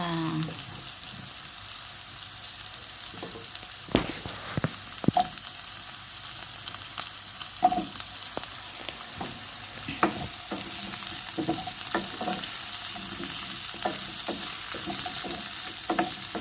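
Cubed squash fries in a pan, sizzling steadily while a utensil stirs it, with scattered scrapes and clacks sounding close and clear.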